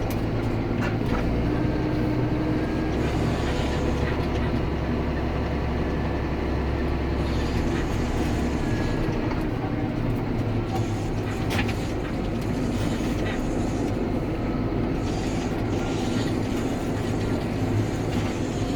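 A 2008 Claas Axion 850 tractor driving down off a trailer, its engine a loud, steady low rumble and drone that continues without a break, with some rattling and clanking over the top.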